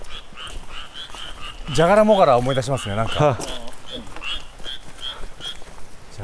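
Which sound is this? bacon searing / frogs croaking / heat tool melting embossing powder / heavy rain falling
frogs croaking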